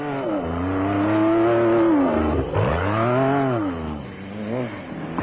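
A Noble Aceco off-road race vehicle with a 440 hp V8 engine roars and revs hard at the 2003 Sun City Off Road Race in South Africa. The engine note rises and falls in loud, close sweeps.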